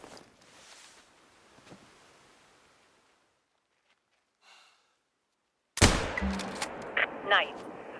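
A hunting rifle shot in theHunter Call of the Wild rings out sharply after a stretch of quiet ambient wind, the loud crack followed by a rolling echo and outdoor noise.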